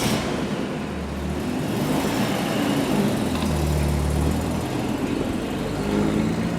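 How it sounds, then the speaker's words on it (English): A car engine idles after a repair, giving a steady low rumble with slight rises and falls in pitch. It sounds close and fairly loud, with no talking over it. "I think it's idling there."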